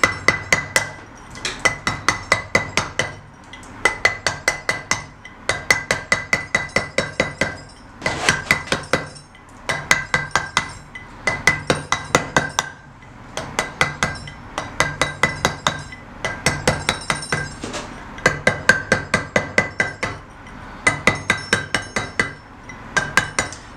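A hammer strikes a chisel on a stone sculpture in rapid bursts of sharp, ringing metallic taps, several blows per second, pausing briefly between bursts, close and loud.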